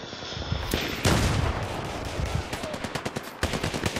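Rapid bursts of loud gunfire, including shotgun blasts, crack through a Battlefield 3 match on the Noshahr Canals map. Shots come in irregular clusters with a heavy blast near the start and a quick volley toward the end.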